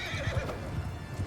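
A horse in the Mount & Blade II Bannerlord video game whinnies loudly and close, with hoof clip-clop, a single short burst.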